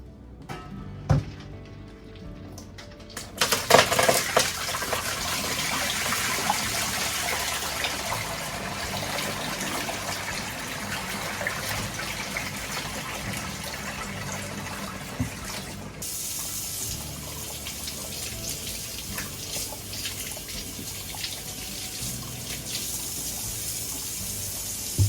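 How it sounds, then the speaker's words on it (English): Cold tap water runs steadily into a sink as salt-brined cucumbers for garlic dill pickles are rinsed, a strong gush switching on after a few seconds and continuing, then softening midway, with no talking. "I gotta rinse them in cold water and just let them drain on the towels."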